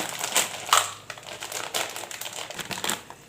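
Plastic bag of pasta being crinkled while cooking, a string of close, sharp rustling crackles in irregular bursts, with no talk.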